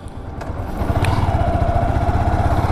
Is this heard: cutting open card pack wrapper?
no